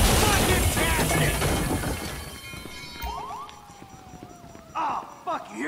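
Police sirens in GTA 5 wail over a chaotic, noisy scene, rising and falling in pitch as the din of crashing and commotion gradually thins out.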